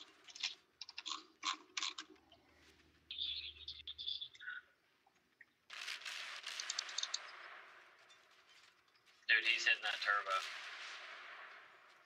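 Gunfire from an enemy warship in World of Warships, with heavy booming salvos and rumbling blasts that rise and fade, mixed with other game effects and some brief clicking.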